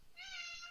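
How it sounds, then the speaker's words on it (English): A cat lets out a single drawn-out meow, fairly close and clear, against a quiet indoor background with no talking. "sorry about my cat. He decided to join the interview."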